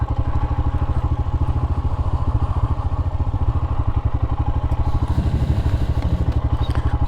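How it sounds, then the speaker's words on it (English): A motorcycle engine runs with a steady, fast low-pitched thumping pulse, loud and close, holding even throughout with no talking. "Lovely motorcycles."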